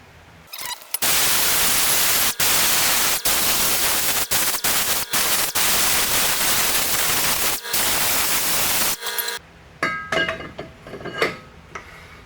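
Harsh, steady abrasive rasping of sanding down the metal dust lip of a 2014-2017 Subaru Crosstrek rear wheel bearing assembly runs nearly continuously with brief pauses, then gives way to scattered light clinks and handling noises.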